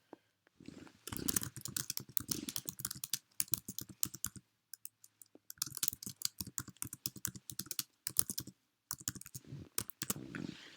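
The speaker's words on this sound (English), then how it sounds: "I'm going to add this text box here, and I'm going to type out my question" Fingers type a question on a computer keyboard in rapid clicking bursts, broken by brief pauses, close and clear with no talking.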